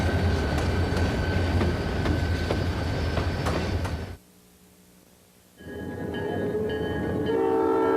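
A diesel freight train led by SD40-2, SD40 and SD45 locomotives rumbles past loudly with a blaring horn, then drops away to near silence for a moment before the train noise returns with squealing, ringing tones.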